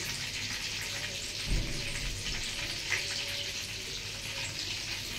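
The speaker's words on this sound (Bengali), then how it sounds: "এই যে এইভাবে লাল লাল করে ভাজতে হবে।" Onions frying in oil until reddish-brown, giving a steady, dense crackling hiss with a couple of soft knocks partway through.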